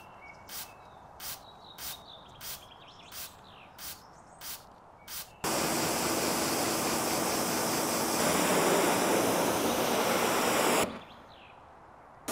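Ceramic spray coating is sprayed onto a BMW M3 being cleaned: about eight short, sharp spritzes in a regular rhythm, then a long continuous hiss of spray lasting several seconds, close and clear.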